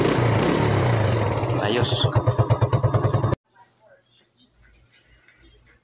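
A motorcycle engine with freshly adjusted valve clearance idles up close, a loud rough putter with rapid rhythmic pulses that cuts off abruptly partway, leaving near silence, with a brief spoken word.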